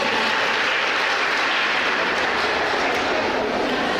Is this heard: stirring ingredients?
no